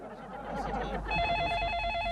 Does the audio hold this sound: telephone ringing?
yes